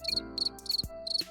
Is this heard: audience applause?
no